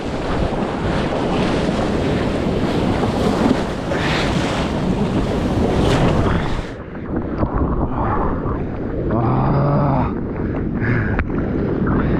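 Ocean surf breaks and rushes at the La Gravière surf spot, a steady roar of waves heavily buffeted by wind on the microphone, loud and continuous, then briefly muffled and quieter before the rumble resumes.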